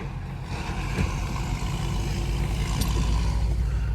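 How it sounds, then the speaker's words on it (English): A loud truck rumbles close by at a red light, heard from inside a Dodge Challenger R/T with the window down, its deep engine drone steady throughout with a brief hiss near the end. "Roll the window up, that loud truck."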